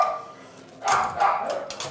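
Dogs bark in a shelter kennel, two or three sharp close barks with echoing tails after a quiet opening.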